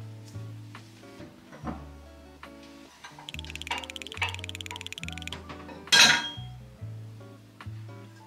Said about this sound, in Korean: 여기에 제가 자주 사용하는 접시들을 넣으려고요